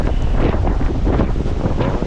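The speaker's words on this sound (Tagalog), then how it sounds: "ganito ang hangin dito sa Bukana, grabe kalakas" Strong, roaring coastal wind at Bucana buffets the microphone continuously, with a low rumble like surf underneath.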